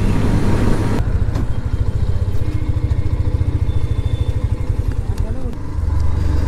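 A motorcycle rides along a road in a group ride on Independence Day, with a loud, close engine chugging in a rapid even pulse and wind rumble, and a voice speaks over it.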